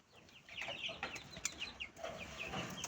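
A rooster clucking among chickens, soft scattered clucks and short calls coming in quick irregular bursts, faint and somewhat distant.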